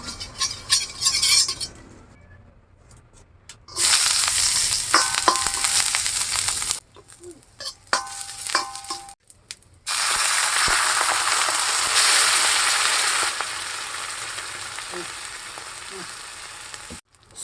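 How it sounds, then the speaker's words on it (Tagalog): Sardines sauté in a hot pan with loud, bright sizzling in long bursts, broken by pauses and the scrape and clink of a utensil stirring against the pan, all close up. "So magisa na tayo."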